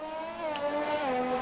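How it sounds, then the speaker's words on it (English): An F1 racing video game car on the Austria circuit, its engine holding a high, steady whine with wavering pitch as the revs surge. "the gearing and revving goes wild"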